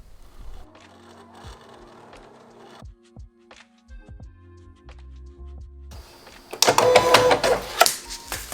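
Silhouette cutting machine kiss-cutting a sticker sheet, with whirring carriage moves, soft clicks and scraping blade passes, and a louder buzzing, rattling stretch near the end.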